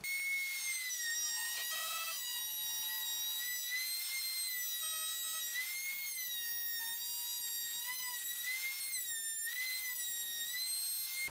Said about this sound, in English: I have my flush trim bit mounted in my trim router